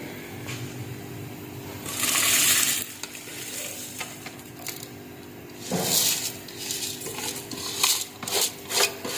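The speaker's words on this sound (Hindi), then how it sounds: "चावल हमने भिगो के रखे हुए थे, अब हम इसको देचके में डालेंगे" Soaked rice for chicken biryani is tipped into a pot of boiling water, giving a loud splashing pour, then scraping and stirring in the pot with bursts of bubbling and clatter.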